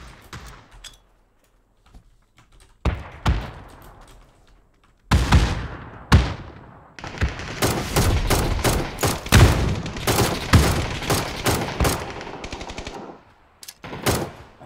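Bursts of automatic gunfire from a newly added rifle firing 7-caliber ammunition in PUBG on Steam: scattered single shots and short volleys early, then a long sustained stretch of loud rapid fire, with a final burst at the end.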